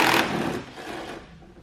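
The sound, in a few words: nut being loosened off a stud on a Pontiac Solstice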